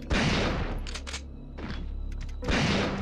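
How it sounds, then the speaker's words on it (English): Gunfire in the video game Resident Evil 3: a few loud bursts of shots with a quieter, echoing stretch between them, close and prominent with no talking. "What are you shooting at, Jill, you fucking idiot?"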